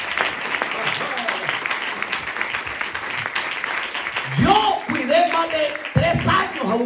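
A church congregation claps and cheers in a lively, echoing burst of applause, with a voice calling out loudly over it near the end.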